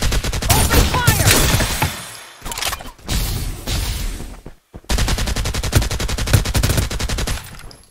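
Rapid automatic gunfire from the video game Farlight 84, loud and close, fired in dense sustained bursts with a couple of brief gaps before the shooting resumes.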